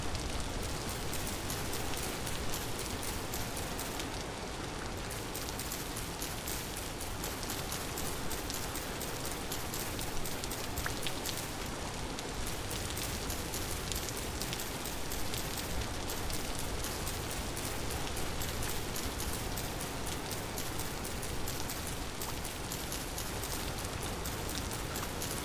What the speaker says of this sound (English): Be quiet so you all can enjoy the rain while I'm breaking these sticks.